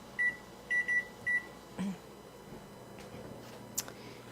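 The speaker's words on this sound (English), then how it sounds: "I'm going to set the timer for 7 minutes" A kitchen timer is set for seven minutes while pasta is being boiled, giving a few short, sharp electronic beeps in a quick uneven series, followed by quiet kitchen background.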